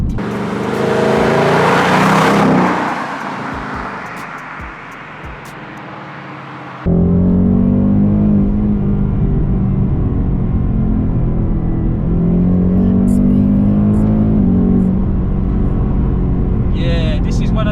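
A 460 hp Ford Mustang GT on air ride roars loudly as the engine revs and pulls through gears, its pitch rising and falling in sustained acceleration with a steady rumble.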